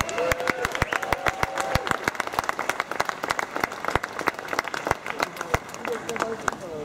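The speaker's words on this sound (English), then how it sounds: "They deserve a round of applause." Crowd applause at an NFL fan rally in Trafalgar Square, London: dense, steady clapping from a large outdoor gathering, sustained throughout with sharp individual claps standing out above the wash.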